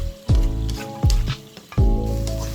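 Egg frying with bitter melon (ampalaya) in a pan, loud sizzling broken by three sharp stirring scrapes at roughly regular intervals, each followed by a burst of crackle.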